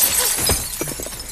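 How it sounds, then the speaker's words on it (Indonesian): Car door window glass shatters in a horror film scene, a sharp crash followed by a brief spray of tinkling fragments, heard alone. "tiba-tiba ada yang melempar sesuatu hingga pintu kaca mobil pecah"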